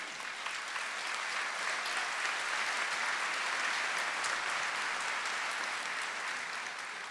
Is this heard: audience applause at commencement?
yes